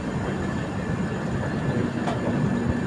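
A train running along the railway track at Viramgam, Gujarat, during torrential rain, heard as a steady, dense rumble with a faint metallic click partway through and no voices.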